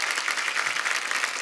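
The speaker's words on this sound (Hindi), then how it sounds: "जोरदार तालियां पूरी स्टार कास्ट के लिए।" A studio audience at a TV comedy show applauds loudly for a film star cast, producing a brief, dense wash of clapping with no voices.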